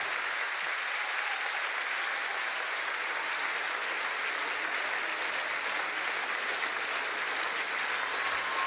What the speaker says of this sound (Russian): Смотрите, как вам аплодируют.